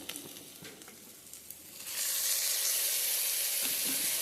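Tomatoes tipped into a pan of ginger garlic paste and turmeric for paneer masala curry: a quiet low sizzle with a few stirring taps, then a sudden loud, hissing burst of sizzle that holds steady.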